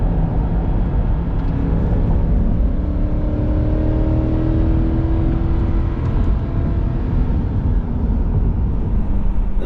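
A 2021 Chevrolet Corvette Z51 accelerates hard on a race track, its engine roaring loud and close with a steady, rising drone that climbs in pitch throughout.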